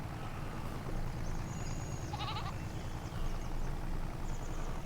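Goats on a farm in the video game Farming Simulator 22 give a few short, nasal bleats over a steady low rumble of engine and ambient game noise, with no talking.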